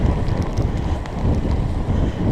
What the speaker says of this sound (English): Wind hasn't died that much. We're in an open field, getting hit with a cross headwind.